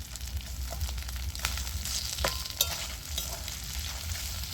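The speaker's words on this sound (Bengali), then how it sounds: "আমি ভেজে রাখা এখানে মাছের মাথাটা দিয়ে দিচ্ছি" Fried fish head sizzles and spatters in a pan with onion and garlic, a steady loud frying hiss broken by sharp crackles and the scrape of a spatula stirring, with no talk.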